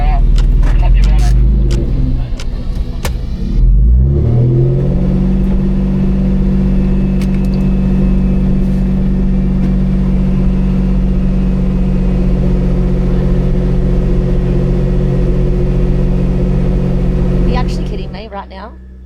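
Car engine raised above idle with the bonnet open at a race track: the motor climbs in pitch over a few seconds, then holds a loud, steady high-revving drone before cutting off near the end.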